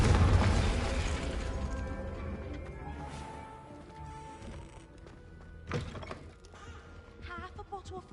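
A Confringo blasting spell from Hogwarts Legacy goes off in a loud booming burst that fades into a rumbling decay, followed a few seconds later by a second, sharper thump and some scattered clatter.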